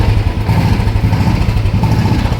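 Royal Enfield Classic 350 motorcycle, restored to stock with an old-type silencer, idling close by with a steady, loud thumping engine pulse and no talk.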